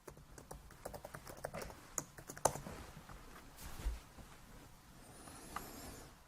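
Keys on a computer keyboard are typed in a steady run of quick, faint clicks with a few sharper taps, entering account details on a Whale Book laptop, with no talking.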